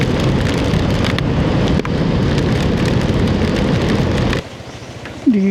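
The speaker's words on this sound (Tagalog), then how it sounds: "Magdamag na ganito po yung ulan." Heavy, steady rain pours down outdoors on a small farm, loud and close, a dense continuous hiss that drops abruptly near the end to a quieter patter.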